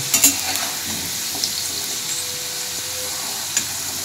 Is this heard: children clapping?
no